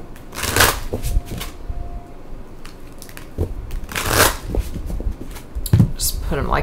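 Chakra Wisdom Oracle cards being shuffled by hand, several crisp riffling and flicking bursts with pauses between, close up, mixed with soft handling rustles and some talking.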